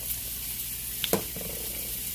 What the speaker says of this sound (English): Now that you got all the veggies in there, you can hear that sizzle.